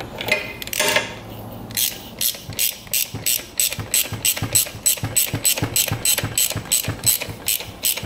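Ratchet tightening a nut on an ATV, with a rapid, steady series of close, sharp metallic clicks in a regular rhythm after a brief scrape.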